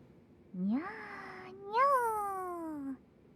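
A person imitates a cat with two drawn-out meows, the first rising then level, the second starting higher and sliding down, voiced close and alone over a quiet background.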